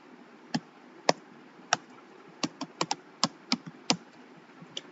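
Typing on a computer keyboard, a run of crisp key taps at close range, sparse at first then quickening into an uneven cluster, over a low background hiss with no speech.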